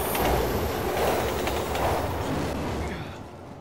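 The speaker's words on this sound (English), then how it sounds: "Oh no. Train's coming!" A train rumbles past loud and close in Resident Evil 6, a steady heavy roar with rattling wheels that holds for several seconds, then eases off slightly at the end.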